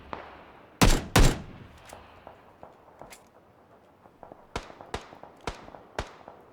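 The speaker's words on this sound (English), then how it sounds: "they do see some movement and taking some shots" Gunfire in the competitive PUBG battle royale game: two loud, close cracking shots near the start, followed by a scattered run of sharper, fainter single shots at irregular intervals.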